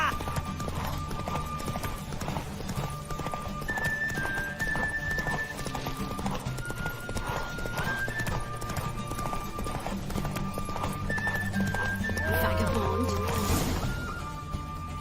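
Roach the horse gallops during a race in The Witcher 3: Wild Hunt, with rapid, steady hoofbeats thudding throughout under game music and a brief snort near the end.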